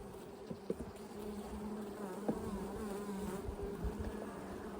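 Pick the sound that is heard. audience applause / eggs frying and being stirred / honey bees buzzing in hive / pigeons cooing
honey bees buzzing in hive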